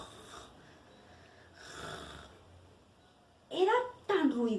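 Loud snoring sounds come in two rasping bursts near the end, imitated by a voice in a Spanish-language children's story, after a quieter stretch of soft talking.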